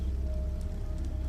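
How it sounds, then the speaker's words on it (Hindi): Steady rain falls on a night-time house in a horror tale, a dense, even patter of drops with a low constant wash underneath and no voices. "सिर्फ बारिश की बूंदे की आवाज आ रही थी"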